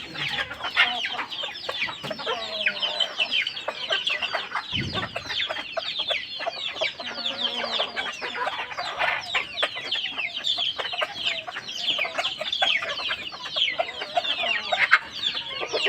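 Hens and a rooster cluck continuously in a busy chorus, with occasional louder squawks, close by and without talk, for a long stretch, in the Konkan region.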